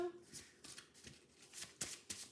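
Tarot cards shuffled and drawn by hand: a few soft riffling swishes and light card slaps at close range, quiet, with brief crisp snaps near the end.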